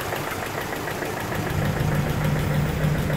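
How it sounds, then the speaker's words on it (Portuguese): A Jeep engine idles close by, a steady low rumble with a slightly knocking, throbbing beat that grows a little louder midway. "Fazendo um vidinho do Jeep aí. Funcionando, tá?"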